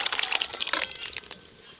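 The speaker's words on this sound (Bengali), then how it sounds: "সেদ্ধ করে রাখা মুগের ডাল ছকে দেব।" Boiled moong dal is poured into a pan for pumpkin-flower dal, making a short, splashy liquid pour that is loudest at the start and then trails off into quieter drips.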